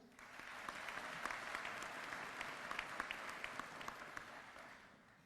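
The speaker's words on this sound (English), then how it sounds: "Please give him a round of applause." Audience applause at a New York City Sanitation graduation and promotion ceremony, a dense, steady clapping from many hands that swells slightly and tapers off at the end, heard at a distance and fairly faint.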